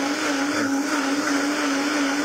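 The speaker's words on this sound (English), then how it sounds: "I can just hit the smoothie button here, give it a blend" A kitchen blender runs continuously on a smoothie, giving a loud, steady motor whine with a constant pitch and a dense roar, and no speech over it.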